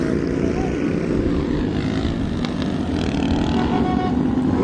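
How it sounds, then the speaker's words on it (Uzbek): An airplane at an international airport gives a loud, continuous engine roar that stays close and steady throughout, with no breaks. "samolyot."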